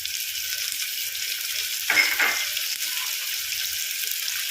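Tomatoes and curry leaves sauté in a pan for a suvarotti gravy, giving a steady, even sizzle with one brief surge of stirring midway and no talk.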